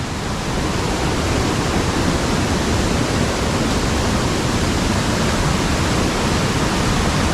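Water rushes constantly and loudly, a dense unbroken roar of a fast forest stream or small waterfall nearby in the Konkan jungle.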